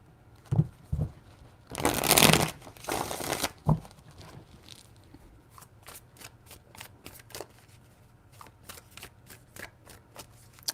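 Tarot cards being shuffled close by, with a loud riffling burst early on followed by a long run of quick, crisp card snaps and flicks in a quiet room.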